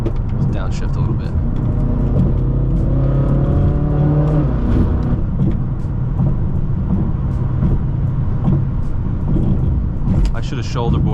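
Engine of a Stage 2 800-horsepower BMW M6 revving through a downshift, a loud, continuous low roar with rising and falling tones, heard from inside the car with people talking over it.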